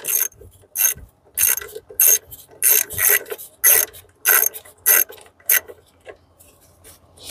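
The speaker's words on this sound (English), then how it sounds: "take out an 11 millimeter socket and just take out these bolts" A ratchet fitted with an 11 mm socket loosens valve cover bolts on a 2004–2006 BMW X3 E83, giving a series of close, crisp clicking bursts in an uneven rhythm, each burst separated by brief pauses.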